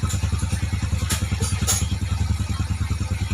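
A motorcycle engine idles smoothly and fairly quietly after its timing chain tensioner has been bled, a steady close rhythmic putter with no rattle from the chain and no talk over it.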